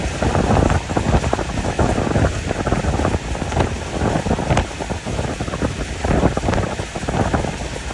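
Heavy rain drums on a moving vehicle on a road trip, a loud, steady broadband wash mixed with wind and road rumble throughout.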